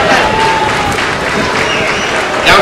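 An audience at a rural running race prize ceremony applauds loudly, a dense, steady wash of clapping from a crowd close by, with some voices mixed in.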